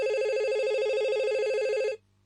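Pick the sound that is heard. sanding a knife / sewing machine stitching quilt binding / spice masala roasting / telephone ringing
telephone ringing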